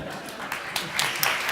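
Audience applause at a Cégep Garneau competition event, a dense wash of clapping, moderately loud and steady, with a few sharper claps standing out.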